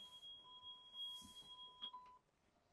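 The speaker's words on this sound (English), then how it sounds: "what you were hearing there was a warning signal that the ignition was on" A steady, thin electronic ignition-on warning tone in a 2026 Newmar Dutch Star motorhome sounds continuously, joined by a brief higher chirp near the end, over low background noise.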